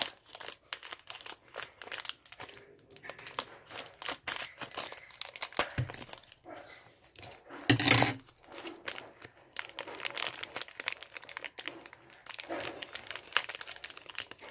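Beyblade Burst toy packaging is torn open with the help of scissors, heard as close, continuous crinkling and crumpling of plastic and paper, with sharper rips at times. Nobody speaks.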